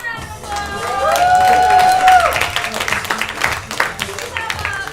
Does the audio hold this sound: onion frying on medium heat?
no